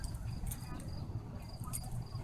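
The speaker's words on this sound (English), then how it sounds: "Hear the crickets." Crickets chirp steadily at night beside a lake, a faint, continuous high trilling in a quiet outdoor setting with no talking.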